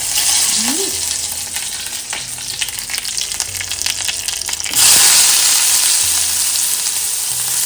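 Mustard seeds, cumin and fresh curry leaves sizzle in hot oil, a loud close crackling hiss that suddenly swells into a fuller, steadier sizzle partway through.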